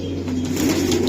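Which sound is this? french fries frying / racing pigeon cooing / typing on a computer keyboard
racing pigeon cooing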